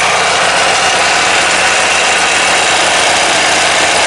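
A late-1990s Murray Select riding mower with a 17hp Briggs & Stratton opposed-twin engine runs loud and close, a steady droning roar with vibration throughout.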